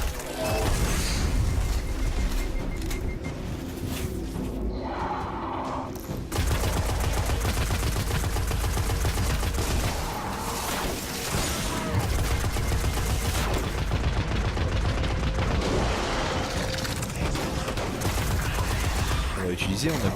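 Rapid gunfire and small explosions from creatures blowing up in the video game Destiny, loud and dense throughout with brief pauses, mixed with game sounds.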